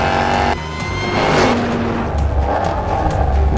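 Jaguar XE SV Project 8 accelerating hard, a loud engine roar rising in pitch from inside the car, with a gear-change break and tire noise.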